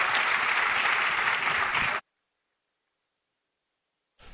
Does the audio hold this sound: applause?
yes